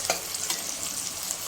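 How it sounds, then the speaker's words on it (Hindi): Tomatoes frying in an onion and garlic-ginger masala, giving a continuous near sizzle broken by a couple of light stirring scrapes, with no one talking. "टमाटर को भी हमने इतना भूनना है कि ये गल जाए"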